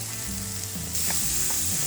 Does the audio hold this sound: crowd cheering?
no